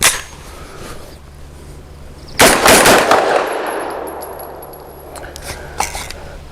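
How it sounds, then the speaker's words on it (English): Extar EP9 Gen 2 pistol fired at close range: a cluster of loud, sharp reports around the middle, followed by a long decaying echo and a few lighter metallic clinks of brass dropping. "As you're seeing, I'm only firing 3 rounds"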